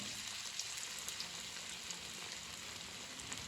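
Cabbage vadas fry in hot oil with a steady, close hiss and soft crackle that runs unbroken throughout, with no voices.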